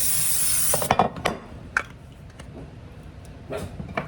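A steady hiss of cooking spray into an 8x8 baking pan for under a second, then a few light knocks and taps of the metal pan being handled.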